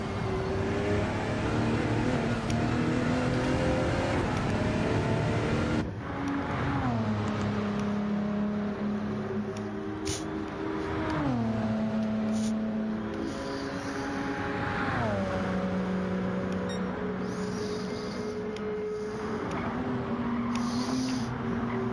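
A race car leaves the pit lane at Spa in a racing video game: a steady droning engine that rises in pitch through several upshifts, loud and continuous throughout.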